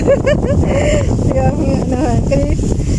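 Wind buffets the microphone in a constant rumbling rush while people talk over it.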